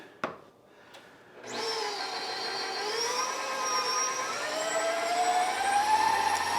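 A KitchenAid stand mixer starts up and runs steadily at slow speed mashing potatoes, a sustained whirring motor tone that rises slightly in pitch, alone after a couple of faint knocks at the start.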